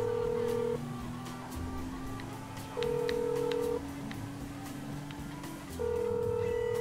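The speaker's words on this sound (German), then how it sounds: "Ich rufe jetzt hier nochmal jemanden an." An outgoing phone call in GTA 5, played through a PS4 controller speaker, rings with three long electronic tones separated by pauses, over quiet game background sound.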